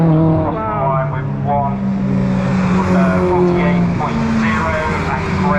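Race cars lapping Cadwell Park in time attack qualifying, including a rebuilt Mazda MX-5 and an Audi TT, with engines rising and falling in pitch as they pass, heard under continuous commentary.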